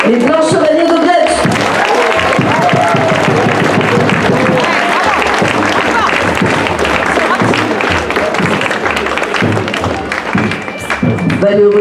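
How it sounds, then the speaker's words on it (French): Crowd applause for a costumed parade group at an evening torchlight parade in Biot, sustained loud clapping and crowd noise with a voice over a loudspeaker at the start. "merci d'applaudir les Blancs Chevaliers de Biot"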